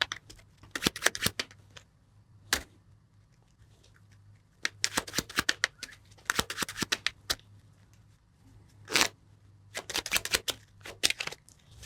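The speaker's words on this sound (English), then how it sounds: "Now you have to shuffle the deck." A deck of playing cards is shuffled by hand during a card magic trick, including riffle shuffles. The result is several quick bursts of crisp, fluttering riffles separated by short pauses, close and fairly quiet, with no talking.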